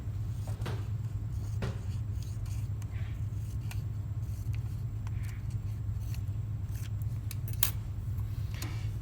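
Scissors cut a strip of dental articulating paper in half, giving a few faint, sharp snips spaced over a quiet low hum in the room.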